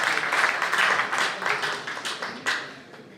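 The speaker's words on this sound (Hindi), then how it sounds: "आप लोग अपने लिए एक दफ़ा तालियां बजा लीजिए।" Audience at a mushaira in Canada applauds steadily, a moderate crowd of overlapping claps that gradually thins and tapers off toward the end.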